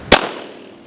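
A single sharp Glock 17 Gen 4 pistol shot goes off close and loud, a sudden crack with a short ringing decay into quiet.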